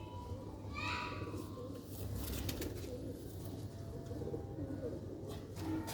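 Sialkoti pigeons coo softly in a rooftop loft, with low repeated cooing under a busy background of rustling and faint voices nearby.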